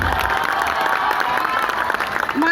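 Steady applause from an audience at a school function in India, continuous mid-level clapping filling the room for a couple of seconds without a break.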